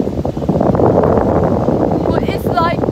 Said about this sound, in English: But it's like windy in here